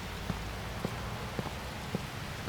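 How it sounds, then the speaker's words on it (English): Rain in the video game Watch Dogs on a night street in Chicago, a steady soft patter on hard surfaces with a few slightly louder drops standing out at even intervals, no voices. "and the rain just enhances that. It just feels right to have rain."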